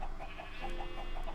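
Chickens clucking on a video game farm, a steady run of short, evenly spaced clucks over a constant ambient hum, with no talk.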